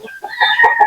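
Native chickens mixed with geese cluck and call close by, a short burst of overlapping squawky fowl sounds with no talk.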